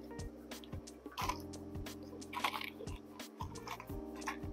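Aquarium tank water is scooped into a container holding frozen krill, giving a few small intermittent drips and wet splashes over a steady low electrical hum in a fish room with many tanks.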